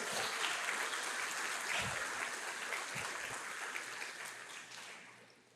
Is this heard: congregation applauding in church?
yes